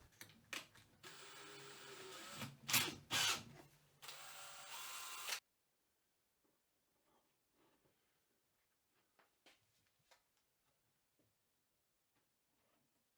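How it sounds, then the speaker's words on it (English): A power drill spins a slotted threaded rod through guide blocks to cut threads in a woodworking jig, giving about five seconds of loud, uneven whirring and grinding bursts before dropping to near silence with faint scattered ticks. "I'll put that in my drill and power it through"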